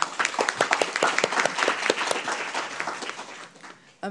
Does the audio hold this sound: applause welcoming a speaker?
yes